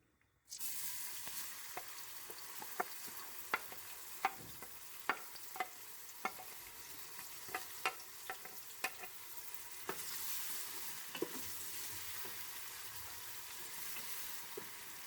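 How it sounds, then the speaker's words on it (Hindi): Finely chopped medium onions hit hot mustard oil for a chicken and potato curry, setting off a steady loud sizzle with repeated sharp clicks and taps of stirring throughout, no talk. "अब इसमें हम प्याज डाल देंगे।"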